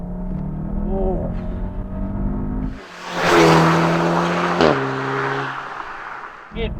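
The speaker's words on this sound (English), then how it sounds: "I just did a quick pull, and this is a very, very strong engine" An Audi TTS with a 290-horsepower 2.0L engine pulls hard from inside the car, its engine note climbing steadily through the gears. A brief exclamation from a voice is heard near the start.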